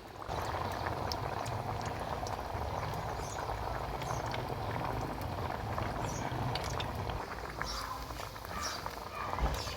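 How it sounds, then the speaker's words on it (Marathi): Bread cutlets fry in hot oil over a low flame, giving a steady, dense bubbling sizzle, close and continuous throughout. "बाकीचं राहिलेले सगळं असं तळून घेते मी"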